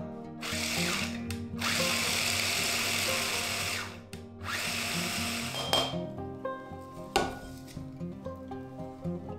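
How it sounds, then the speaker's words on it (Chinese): An electric food chopper whirs loudly, grinding roasted peanuts with white sugar into fine granules in two long bursts with a brief pause between them, then stops and leaves scattered clicks and rattles of the bowl. "等所有果仁都烤好放凉之后，用切碎机搅打成颗粒。"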